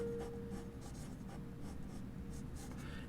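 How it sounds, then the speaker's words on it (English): Pencil scratching across paper while sketching a car, a steady soft rubbing of short strokes, close and quiet with no voices. "I will just draw this a little bit longer."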